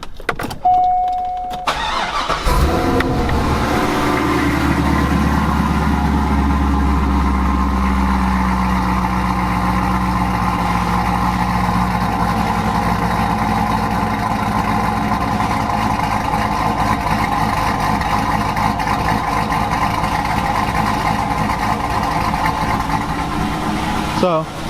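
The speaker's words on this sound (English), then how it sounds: "the exhaust on this thing, it's got a little camshaft in it, chopping" Corvette V8 with long-tube headers and an aftermarket camshaft starts up, then settles into a loud, steady idle with a choppy, lumpy exhaust rhythm heard close by; a person talks over it at times.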